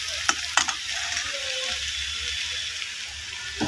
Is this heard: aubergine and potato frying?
yes